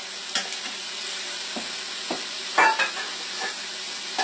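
Two yellow onions start cooking in olive oil in a pan, giving a low steady sizzle with a few scattered stirring scrapes and clicks. Faint, close and alone, with no voices.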